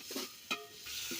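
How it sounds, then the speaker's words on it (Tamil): Salted meal maker masala being stirred in a pot for Tamil-style egg biryani, a brief scrape of a spoon against the pot with soft sizzling, close and quiet. "உப்பு சேர்த்து கிளறி விடுறாங்க."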